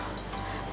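A lid clinks shut once on a steamer pot holding about 35 thari kozhukatta rice dumplings. It is a single short metallic knock, close and brief, against a steady low kitchen hum.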